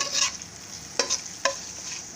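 Ghee heating in a pot as the base for a biryani masala, with a soft steady sizzle broken by a few sharp spits and pops, close and alone.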